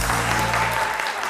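A dense wash of crowd applause from a TV talk show studio audience, steady and fairly loud throughout, with a low musical tone underneath fading out partway.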